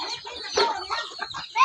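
Several chickens cluck in quick, irregular bursts, close by and fairly loud, with no talking.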